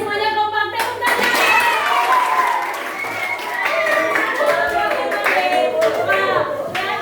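Students in an Indonesian eighth-grade class clap their hands together in a short burst, with children's voices and chatter mixed through the clapping.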